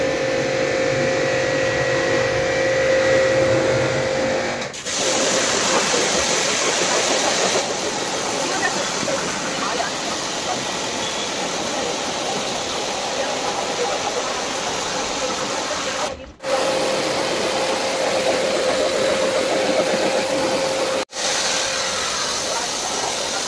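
Water-jet washing of a dirty Hitachi split AC coil: a loud, steady hissing spray runs nearly unbroken, with short breaks around five, sixteen and twenty-one seconds, and no talking.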